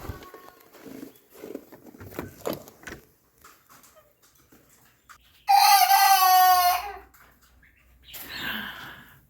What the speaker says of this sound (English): On the left side, that is where I have 3 chickens.